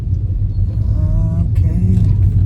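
A car pulling away in second gear, a loud, steady low engine rumble close to the cabin with a slight rising tone midway and no voice.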